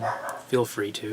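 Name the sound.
dog barking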